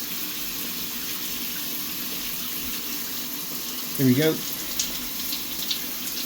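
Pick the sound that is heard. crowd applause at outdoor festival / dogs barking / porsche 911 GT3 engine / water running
water running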